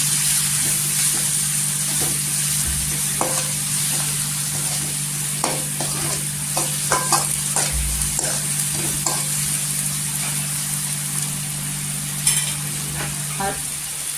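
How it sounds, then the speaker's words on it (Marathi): Masala of Kashmiri red chilli powder, turmeric and other ground spices fries in hot oil with a continuous close sizzle, punctuated by frequent scraping stirs and clicks of the spoon against the pan, under a steady background hum. "मसाला परतून घ्यायचा तेलावर"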